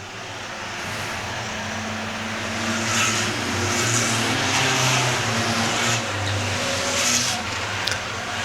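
Race cars in a Six Shooters feature at Star Speedway roar around the oval in a steady, loud engine drone that swells and fades as packs pass, with no talk over it.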